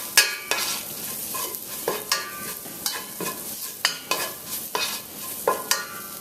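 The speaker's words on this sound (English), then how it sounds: "Just to toast that curry powder and that amchar masala a little bit." Onions with amchar masala and curry powder being stirred and toasted in a pot, with a steady sizzle broken by regular scraping spoon strokes roughly every half second, close and fairly loud.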